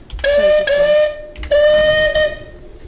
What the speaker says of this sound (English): What a lovely whistle though.